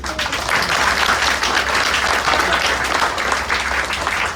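A crowd at a book launch applauds steadily and fairly close, with thick continuous clapping throughout.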